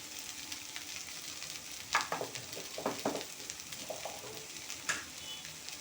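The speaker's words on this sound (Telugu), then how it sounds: "మనకి ఈ విధంగా వేగింది వంకాయ" Brinjal (eggplant) fries in a pan with a steady soft sizzle, broken by a few louder crackles and stirring scrapes near the middle.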